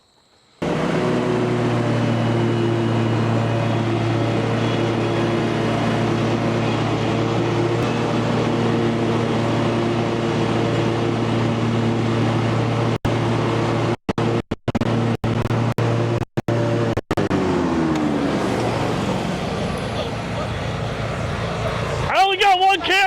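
A Scag V-Ride II XL stand-on lawn mower drones loud and steady close by, its engine hum holding even with a few sharp dropouts before the pitch sags and a voice comes in at the end.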